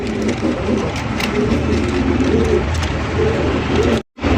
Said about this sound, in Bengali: দেখেন কত সুন্দর একটা মুখী কবুতর